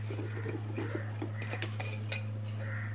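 Sliced apple pieces being mixed in a bowl with a utensil, giving a run of soft clinks and scrapes against the dish over a steady low kitchen hum, with close, irregular taps throughout.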